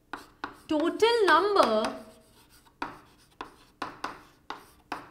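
Chalk or marker strokes on a board during a math lesson, a run of sharp scratching taps at an irregular pace, close and fairly quiet, with a voice speaking briefly between them.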